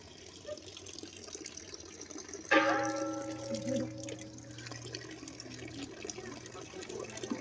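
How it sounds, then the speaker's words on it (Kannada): Water runs down from above inside a Malaysian mountain cave temple, a steady splashing trickle that sets in abruptly partway through and continues over a low ambient background, heard alone without talk. "ನಾನೊಂದು ಸ್ವಲ್ಪ ನೀರು ಕುಡಿಯೋಣ. ಇದರಿಂದ ಮೇಲ್ಗಡೆಯಿಂದ ಬರ್ತಾ ಇದೆ ಅಲ್ಲ ನೋಡಿ"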